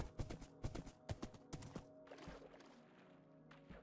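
A horse being led on a lead during an outdoor expedition clops its hooves in a quick, even series of sharp, close strikes, which then give way to softer, scattered shuffling.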